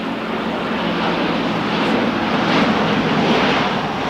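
An ANA Boeing 787-800 Dreamliner taking off at LAX, a loud, steady broadband jet roar heard from a distance with no voices.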